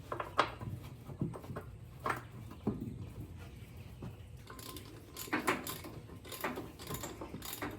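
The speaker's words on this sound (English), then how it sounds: "I've got them all tightened up with the ratchet" A ratchet tightens the wheel bolts on a Farmall tractor wheel damaged by calcium chloride, with quiet bursts of clicking and mechanical clatter, irregular and close, separated by short pauses.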